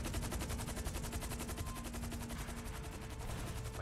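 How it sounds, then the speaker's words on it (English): Rapid automatic gunfire in GTA V rattles in an unbroken burst, rhythmic shots stacked closely together at a moderate distance, with no voices over it. "You pointing the gun, trying to shoot me, but your aim is so bad you keep missing."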